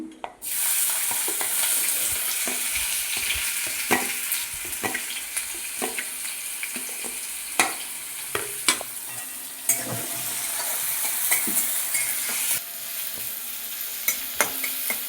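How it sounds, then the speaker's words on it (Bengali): Onions with whole garam masala sizzle steadily in hot oil in a pan for mutton curry, punctuated by repeated sharp scrapes and knocks of a spatula stirring them close up. "পেঁয়াজটা লাল লাল করে ভাজা হবে গোল্ডেন কালার হবে ভাজা"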